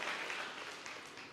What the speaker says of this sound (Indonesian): kasih tepuk tangan dia meriah buat Tuhan